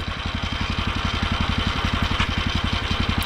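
Walk-behind tractor engine with an enlarged pulley runs steadily in first gear while a potato digger is hitched on, its rapid, even firing pulses close and loud throughout with no voices.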